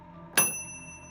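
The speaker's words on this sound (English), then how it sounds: "A few blocks later, the stop request bell rang." A bus stop request bell gives a single bright ding inside a quiet bus, ringing out and fading slowly over a faint low hum, with no talk.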